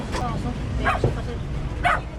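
A dog barks a few times, short sharp yips spaced apart, moderately distant, against a background of outdoor noise.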